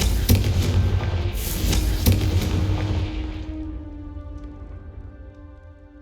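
Confringo blasting-spell explosions in the Hogwarts Legacy video game, a loud rumbling burst of booms and crackling impacts in the first seconds that trails into a fading, ringing tail, with no voices.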